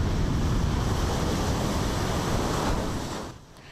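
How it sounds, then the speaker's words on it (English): Loud surf and roaring wind from a typhoon lashing the coast of the port city of Busan, a dense, continuous wash of crashing high waves and gusts that eases slightly near the end. "The port city of Busan has been hit with high waves, strong winds, and heavy rains."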